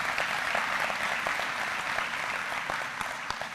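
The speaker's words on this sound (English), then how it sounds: "Give them a round of applause." A tech conference and expo audience gives a dense, sustained round of applause, many hands clapping together at fairly close range with no talk over it.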